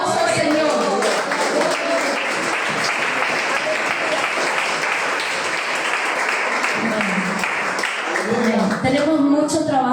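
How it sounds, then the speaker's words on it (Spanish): Applause from a church congregation at a cathedral service, a dense and sustained wash of clapping lasting throughout, with voices mixed into the crowd noise. "Dale un aplauso al Señor."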